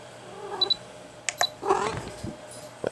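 A pet cat making a few short mewing noises and brief fussing sounds indoors, close and intermittent, along with faint clicks and rustles.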